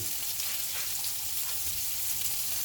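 Sage leaves and chives frying in browning butter, a dense continuous sizzle and crackle heard close and loud, with no voices.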